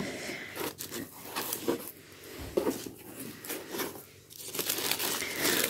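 Decorative paper crinkling and rustling continuously as a December crochet subscription box is unpacked by hand, close and fairly loud, with scattered scrapes and crunches, no talk.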